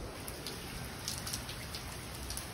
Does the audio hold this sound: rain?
yes